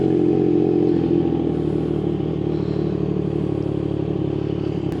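A warmed-up 675SS motorcycle fitted with a full IXIL exhaust and no baffles idles close and very loud, a deep, steady, throbbing rumble with a slight clattery edge, with no talk.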